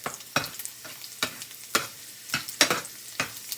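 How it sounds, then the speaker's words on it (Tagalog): Chicken feet sautéing in a pan for adobo, with a soft sizzle under repeated sharp scrapes of stirring that come roughly every half second, close and moderately quiet. "igigisa natin guys ang chicken feet para hindi po siya malangsa"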